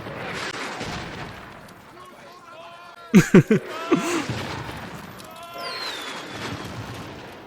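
Rocket unit firing in a Napoleonic-era battle scene from the TV series Sharpe: a rapid burst of three or four loud close booms with whooshing trails, set among background battle noise and voices.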